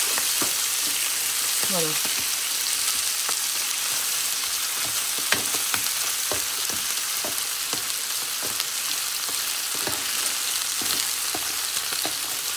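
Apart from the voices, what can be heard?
browning meat frying in electric slow cooker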